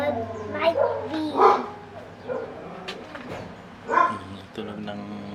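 A dog gives a few barks and yips at close range, spaced out over several seconds, with quiet background noise between them.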